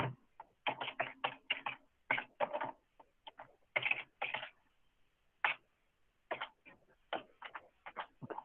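Keys on a computer keyboard are typed in irregular bursts of quick clicks with short pauses, close but fairly quiet, with no talking.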